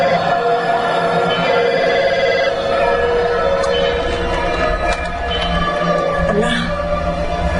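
A telephone rings repeatedly over a continuous dramatic music bed in a Spanish-language true-crime program, the ringing steady and fairly loud with no speech over it.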